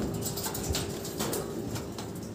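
Pigeons coo softly at a racing pigeon club loft, low repeated throaty calls amid steady background noise.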